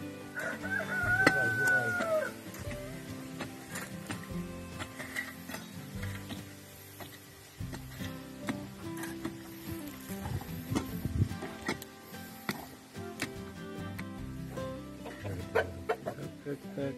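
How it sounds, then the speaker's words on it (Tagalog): Caged chickens in a backyard coop cluck softly while a rooster crows near the start, over a steady clutter of background noise and faint voices. "Mga manok nakakulong na."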